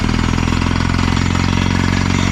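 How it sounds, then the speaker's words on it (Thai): A drilling rig hammer-bores into topsoil for a groundwater well, its engine droning loud and constant with a rapid, even pounding rhythm close by. "เริ่มเจาะ หน้าดิน ครับ"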